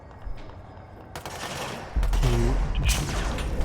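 Enemy gunfire in the video game Control: a faint early shot, then from the middle onward a louder, sustained barrage of rapid shots layered with game effects and a low rumble.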